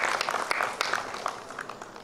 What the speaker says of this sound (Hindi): सर प्लीज जोरदार तालियां हो जाए